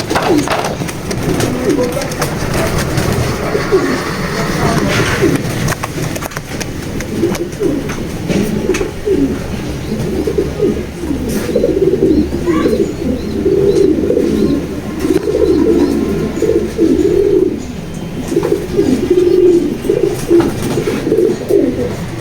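Racing pigeons in a loft coo steadily and overlap throughout, a continuous murmuring chorus of soft throaty calls close by with no clear speech.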